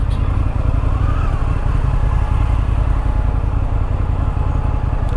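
An Indian FTR 1200S motorcycle ridden through the city in second gear, its steady, loud engine thrum close and continuous with faint wind rush.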